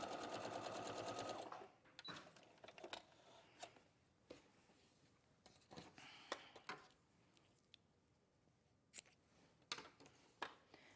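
A sewing machine stitches fabric while an apron is made, running in a steady fast burst at the start, then giving way to quieter intermittent clicks and handling sounds.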